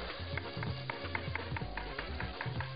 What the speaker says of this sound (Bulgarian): кебабчетата се пържат окей